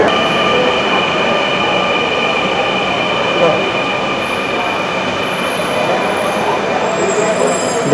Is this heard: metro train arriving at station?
yes